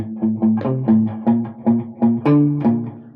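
Palm-muted distorted electric guitar lick in Locrian mode: a run of short, chugging clipped notes in a steady, slightly uneven rhythm, close and loud, with a few brighter accented hits near the end and no talking.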